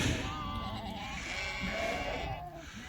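Sheep and lambs bleat repeatedly near a flock's resting area, overlapping wavering calls from several animals at moderate volume, with faint talk and background farm noise underneath.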